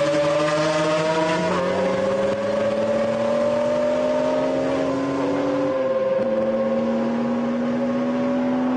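Race cars at the 1995 24 Hours of Le Mans, Porsches among them, with a loud sustained engine drone whose pitch climbs steadily and drops sharply on gear changes as the machines pass close.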